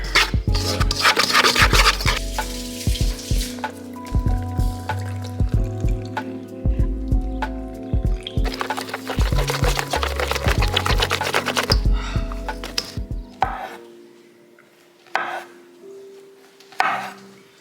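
Salt being mixed into flour for French crepe batter, heard as steady scraping and rubbing strokes with sharp knocks against the bowl, loud and close, fading to sparse taps near the end.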